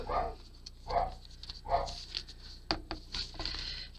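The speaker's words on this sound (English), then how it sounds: "And now all the dogs in the neighborhood are barking." Several dogs bark at a distance, a few spaced yaps early and then scattered fainter barks, with light background noise.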